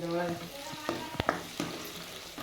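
Mixed vegetables frying in a pan for vegetable fried rice, a close sizzle broken by several sharp spatula clanks and scrapes against the pan.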